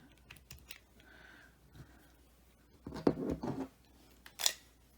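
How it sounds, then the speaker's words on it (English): Scissors snip thread while earrings are being made: a short cluster of close, crisp cuts, then one more sharp snip, in a quiet room with faint handling sounds. "Trim my thread."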